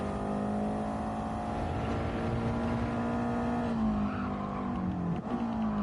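A race car engine in Gran Turismo 7 holds a loud, steady high-pitched drone that climbs gradually in pitch, then dips briefly near the end and picks up again, with no talking over it.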